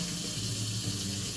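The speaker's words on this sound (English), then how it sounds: "I gotta use tap." Tap water runs steadily into an instant noodle cup of curry udon, a close, continuous splashing pour with no talk over it.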